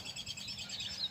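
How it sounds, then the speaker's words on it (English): Birds chirp and sing continuously outdoors, a layered chorus of bright, high calls at moderate distance with no talking. "So Thankful for all the birds that are out here singing."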